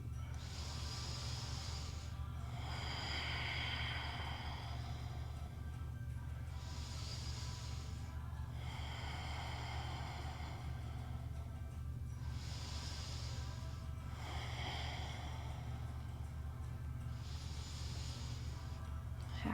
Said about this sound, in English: Let's go 3 more deep inhales and exhales.